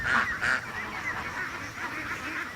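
Ducks leaving a yard in the evening honk loudly a couple of times, then keep up a continuous jumble of calls and quacks nearby.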